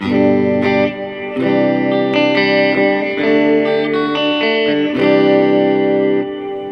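Electric guitar played through a Biyang RV-10 Tri Reverb pedal, sustained chords and picked notes blooming into a wide, lingering reverb tail, loud and continuous with no talking.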